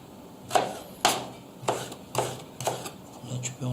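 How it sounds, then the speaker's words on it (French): Carrots being chopped on a cutting board with a small cleaver in a home kitchen, about seven sharp knife strikes at an uneven pace, close and clear, with a voice talking faintly between them. "On va hacher donc les carottes."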